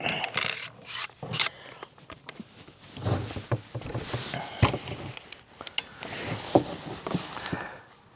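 Loading a bolt into a TenPoint Venom crossbow gives a string of close, dry scraping and rubbing sounds with sharp clicks and taps scattered throughout, fairly quiet and with no talking.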